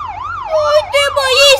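A police siren in the video game BeamNG wails, rising and falling in steady sweeps, loud and close, with a second siren tone joining partway through.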